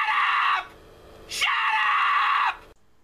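Two loud, sustained screams of annoyance, the first about half a second long and the second, after a short pause, stretching over a second, both harsh and close with no speech.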